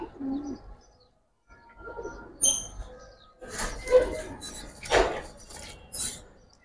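Giribaz pigeons coo in several soft, low bursts at a pigeon market, interspersed with brief chirps, wing rustles and handling noise close by.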